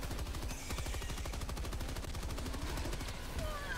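Sustained automatic machine gun fire in the shooter game Helldivers 2, a rapid steady stream of loud, close shots running nearly unbroken for several seconds.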